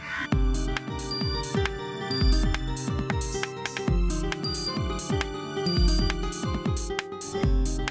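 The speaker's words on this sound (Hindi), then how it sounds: "उसी महिला की फोन है। उठा उठा।" A mobile phone ringtone plays in a Hindi TV serial scene, a loud, bright melodic loop of plucked notes repeating steadily over several seconds, with no voices over it.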